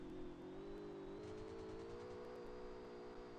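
A car engine in the game Rules of Survival hums steadily at a low, faintly rising pitch, quiet and continuous throughout with no other sounds.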